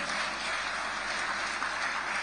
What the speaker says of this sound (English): Can we hear the applause for ENL Consortium?